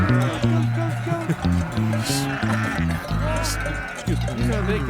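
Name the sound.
goat bleating in a play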